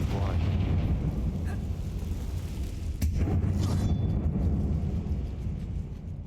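Confringo blasting spell in the video game Hogwarts Legacy, a heavy booming explosion with a sharp crack near the middle, rumbling loudly throughout alongside a continuous low roar; a voice is heard in the clip.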